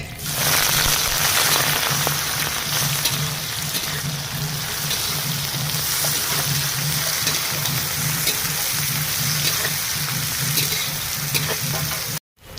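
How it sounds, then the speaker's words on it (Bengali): Onions fry in hot oil with garam masala, bay leaf and dried red chilli, a loud, steady, close sizzle that runs unbroken before cutting off abruptly near the end, with no talking. "তেল গরম হয়ে গেছে এতে দিয়ে দিলাম গরম মশলা তেজপাতা আর শুকনো লঙ্কা দিয়ে দেবো পেঁয়াজ"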